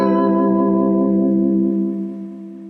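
One lush guitar chord strummed once with an effected, echoing tone, ringing out and slowly decaying over a few seconds.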